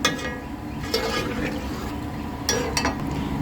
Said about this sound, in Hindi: ये देखें ये हमने पानी डाल दिया है